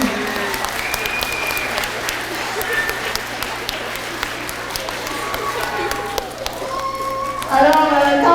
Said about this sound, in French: on applaudit clairement M. Daniel Landry, si vous en applaudissez fort